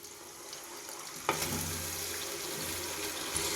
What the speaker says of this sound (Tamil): இஞ்சி பூண்டு பேஸ்ட்டு வெங்காயத்தோட நல்லா வதங்கி வந்துருச்சு அது கூடவே அரை கிலோ தக்காளி போட்டுக்கலாம்